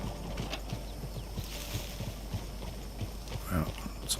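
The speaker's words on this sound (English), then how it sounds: "Oh, it's a player horse." A player's horse in Red Dead Online trots nearby, its hooves clopping at a steady pace over outdoor ambience and faint birdsong, with a louder rustle near the end.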